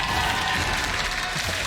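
Crowd at an LEC League of Legends match in Berlin, SK Gaming versus Schalke 04, breaks into loud, sustained clapping that fills the arena evenly throughout.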